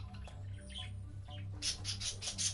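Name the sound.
birds chirping in a video game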